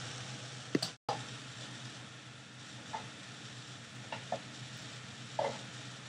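Garlic sizzles and fries steadily in a pan for Spanish rice, with a sharp clatter near the start and a few faint stirring ticks over the constant crackle.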